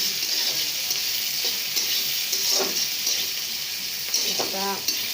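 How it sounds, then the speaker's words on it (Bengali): Onions and chilies fry in a hot pan with a steady, dense sizzle, broken now and then by soft scrapes of stirring. "ভাজি করার জন্য পেঁয়াজ আর মরিচ আমি ভেজে নিতেছি"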